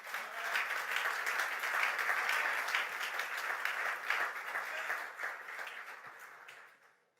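A church congregation breaks into loud, sustained applause and cheering during a sermon, a dense wash of clapping that holds steady and then slowly fades away.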